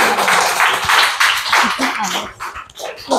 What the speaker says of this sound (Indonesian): beri tepuk tangan buat teman-teman